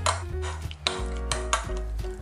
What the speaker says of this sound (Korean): 액젓 2큰술, 참기름 2큰술, 고춧가루 2큰술 넣어주시고요. 통깨 1큰술, 다진마늘 1큰술, 대파 넣어서 잘 섞어주겠습니다.